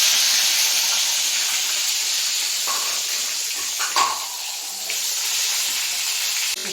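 Tomato dropped into a kadai of hot oil tempered with kalonji (nigella seeds), giving a steady, close, bright sizzle and hiss that continues throughout with a brief surge partway, no talking.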